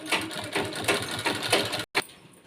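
A sewing machine stitches the straps of a fabric lunch bag, running in a steady rapid mechanical chatter with short bursts, cutting off briefly near the end before resuming more quietly.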